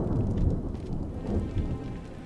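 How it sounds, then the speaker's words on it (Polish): Rain pours steadily through a rumbling thunderstorm in the video game Monomyth, a dense, loud, continuous wash of drops over low rolling thunder, with no voices. "Burza."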